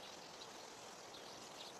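Newly planted sweet pepper plants in a garden being lightly watered, a soft, steady trickling spray of water running without break, faint and even throughout.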